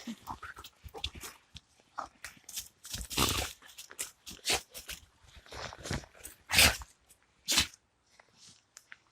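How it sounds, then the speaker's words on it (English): Dogs fighting outdoors in the snowy Carpathian Mountains of Ukraine, with irregular bursts of snarling, growling and yelping separated by short gaps, some louder barks standing out. "dogs are fighting"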